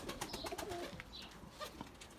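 Young pigeon squabs in a loft in hot weather in İzmir give soft, faint cooing calls, a few brief notes over low background noise.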